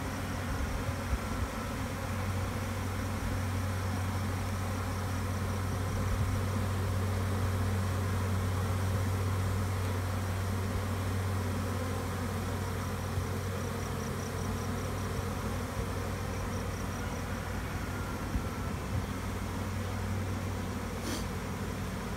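A swarm of honey bees being gathered into a box drones steadily and fairly loudly throughout, a dense continuous buzz with no talking over it.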